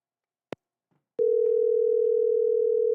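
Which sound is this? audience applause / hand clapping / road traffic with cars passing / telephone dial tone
telephone dial tone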